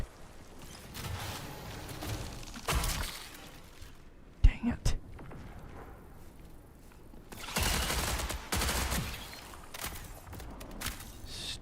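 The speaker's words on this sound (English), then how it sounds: "Stupid spiders making me shoot." Bursts of gunfire from shooting at spiders in the Marathon video game come in several separate volleys, with sharp shots in the middle, quieter game ambience between them and some low speech.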